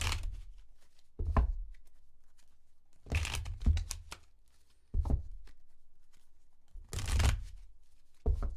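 Tarot cards are shuffled in close bursts, four or five riffling flurries separated by short pauses.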